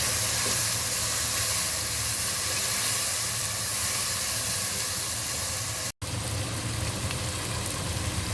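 Loud, steady sizzling hiss as a small amount of water goes into a pan of spice mix frying with salt for khichuri, close and continuous with one brief dropout, no talking.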